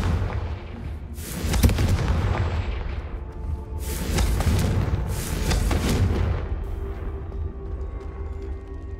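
Confringo fire spells blast in Hogwarts Legacy combat, heard as a series of loud booming explosions with rumbling tails, one after another over several seconds, with no voices.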